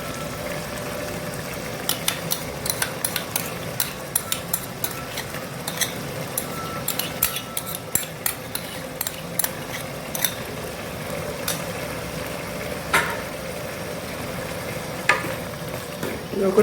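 A spoon stirring yogurt into a potato and spinach curry in a pan, giving quiet scattered clicks and scrapes over a steady soft sizzle with faint background noise.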